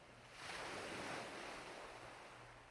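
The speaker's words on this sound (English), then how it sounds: "Feel the rhythm of the calm waves flow over the sand." Calm ocean waves wash over sand in one soft, broad swell that rises and slowly fades, with faint wind noise underneath.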